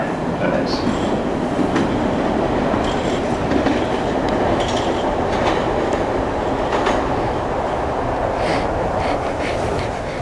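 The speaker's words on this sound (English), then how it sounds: "Oak Grove train arrives in 10 minutes." A Boston subway train pulls into a station with a loud, steady rumble and rattling clatter throughout, broken by occasional metallic wheel squeals, heard close on the platform.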